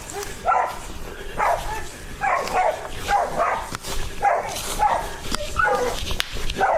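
A dog barks fiercely and repeatedly at a raccoon, a steady run of sharp, close barks and yips roughly every half second, loud, with outdoor background noise and no clear talk.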